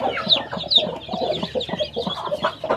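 A broody hen clucks steadily beside her newly hatched chicks, repeated soft clucks mixed with high chick peeps, close and continuous with no talk.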